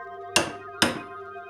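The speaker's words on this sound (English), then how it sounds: "I center punch the wood" Two sharp metallic hammer taps on a center punch marking a wooden 2x2, about half a second apart, ringing briefly over a faint background hum.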